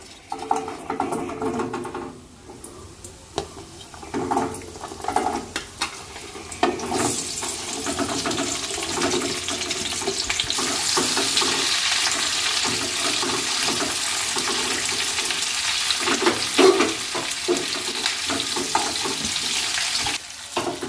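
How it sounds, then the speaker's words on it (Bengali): Vegetables for chilli chicken fry in a pan, starting with scattered clatter and then settling into a loud, continuous hissing sizzle that runs steadily to the end, close by. "এখন আমি সবজিগুলো ভেজে নিচ্ছি"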